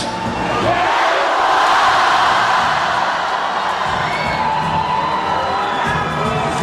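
A large stadium crowd in Lithuania roaring the 'Mes už' cheer, a dense, loud and sustained wall of voices and whoops that stays at full volume throughout.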